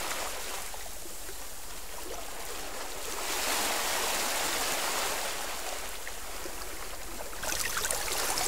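A flowing stream of water gives a steady, dense rushing hiss that swells slightly midway, continuous and close with no voices present.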